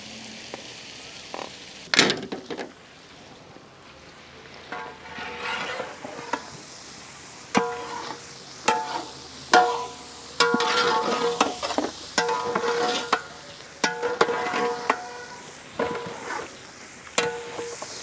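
Butter sizzling in a pan as mixed vegetable masala is stirred, with repeated scraping stirs and bursts of frying crackle over a steady low sizzle.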